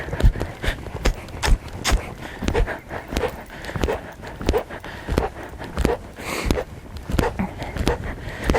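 Steady rhythmic hoofbeats of a horse moving through canter and trot transitions in a dressage warm-up, close and clear with a continuous drumming pattern; a voice speaks faintly underneath.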